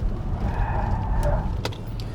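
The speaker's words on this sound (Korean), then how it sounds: "타이어의 열을 좀 올리기 위해서 차를 조금 미끄러뜨리면서 주행을 해보도록 할게요" A Kia EV6 GT drones steadily on a race circuit, with a faint squeal of tires sliding briefly midway as the car is slid to heat the tires.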